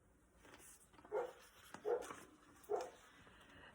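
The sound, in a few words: dog barking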